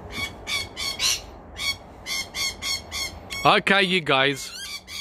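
An exotic parrot gives a run of loud, harsh squawks in quick rhythmic bursts close by, with a brief spoken voice between calls.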